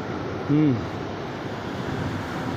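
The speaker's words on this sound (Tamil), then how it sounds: "தண்ணி எப்படி போகுது பாருங்க." River water at Sonmarg rushing steadily in a broad, continuous wash with wind buffeting the microphone, and a brief voice heard faintly early on.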